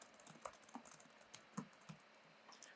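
Close, soft keystrokes on a computer keyboard tap out an irregular run of typing while details are entered for a Microsoft Teams meeting invite, with no talking.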